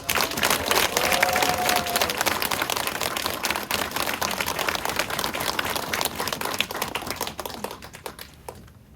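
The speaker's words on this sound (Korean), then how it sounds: "여러분 같이 박수해 주시기 바랍니다." A church congregation applauds at a founding thanksgiving service, a dense crackle of many hands clapping that fills most of the stretch, then thins and fades out near the end.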